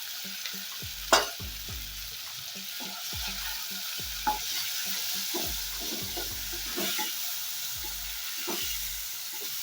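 Masala paste with turmeric and coriander sautés in a pan, giving a soft sizzle as a spoon stirs and scrapes in repeated short strokes, close and fairly quiet, with no talking.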